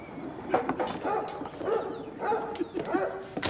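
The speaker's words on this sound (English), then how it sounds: "What you barking at?" A dog gives a string of short, muffled barks and yips at moderate distance, fairly quiet against background noise.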